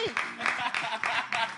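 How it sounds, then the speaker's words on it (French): A small audience at a French-speaking gathering claps briefly in an even rhythm of about half a dozen quick claps, with a voice heard just at the start. "Applaudissez"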